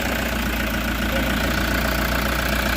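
A 2013 Toyota Hiace Commuter van engine idles roughly, a loud, steady, close rumble with a constant uneven throb and no voices.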